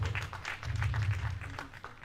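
Audience applause for a guest at a Nigerian foreign policy event, a short patter of scattered hand claps over a low room hum.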